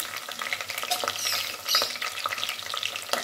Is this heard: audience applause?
no